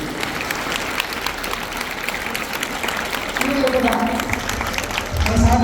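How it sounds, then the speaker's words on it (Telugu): Students at a school motivational training session applaud together, a steady broadband clatter of many hands that swells louder toward the end, with a voice and some tonal sounds breaking through in the last seconds. "చప్పట్లు కొట్టండి"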